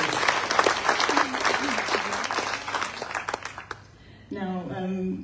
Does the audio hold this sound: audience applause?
yes